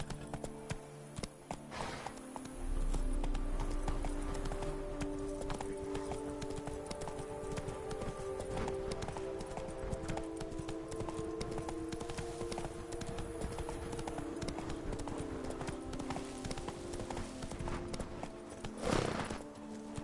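Hooves clip-clop steadily from a horse being ridden, close and continuous, with a few faint rider sounds and a brief louder thump near the end.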